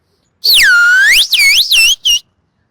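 A voice mimics a toy flute sold at a village fair, a shrill wavering whistle that swoops down and up, followed by three shorter rising chirps, loud and close with no other sound.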